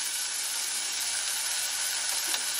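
Garlic sizzling in hot oil in a pan, a steady, close, bright hiss that holds level with no talking.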